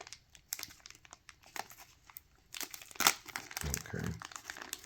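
A small stapled plastic bag of spare parts from an RC helicopter kit being opened, giving bursts of close crinkling and tearing plastic that grow denser and louder toward the end, with faint talk underneath.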